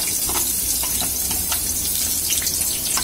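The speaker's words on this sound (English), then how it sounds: "add some oil in my dish. Friends, now add some" Onion slices fry in hot oil in a dish, a dense, steady sizzle with crackling pops, close and loud throughout.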